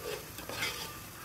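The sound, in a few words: frying and stirring kalia spice paste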